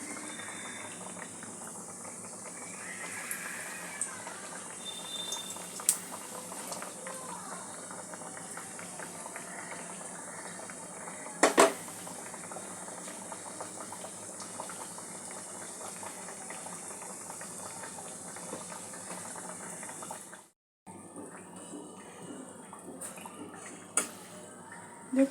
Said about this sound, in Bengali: তাই জন্য মিডিয়াম লো হিটে বিস্কুটটা ভেজে নেবেন